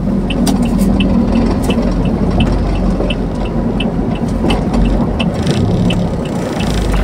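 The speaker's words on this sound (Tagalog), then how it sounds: "Parang pumapalya siya. Hindi agad masunog yung gas, mga ganon." Small engine with a faulty spark plug running rough and misfiring, a steady loud drone with irregular sputtering ticks throughout, no talking.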